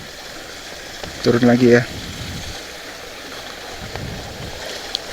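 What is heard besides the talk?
water flowing at Bogowonto river headwater spring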